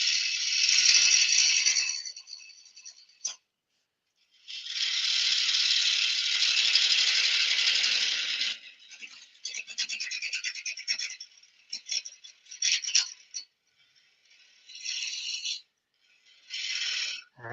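A wood lathe turns an Irish yew bowl as the gouge cuts a tenon, bursts of harsh, raspy scraping separated by short pauses, fairly close and with no talk.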